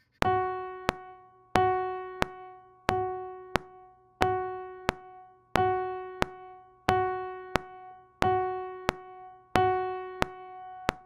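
A keyboard note is played repeatedly as half notes at an even pace, each one held for two beats, with faint clicks ticking between them.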